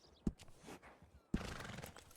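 A horse in Red Dead Redemption 2 gives a short snort and then a longer whinny about a second later, close but fairly quiet, with faint hoof movement between them.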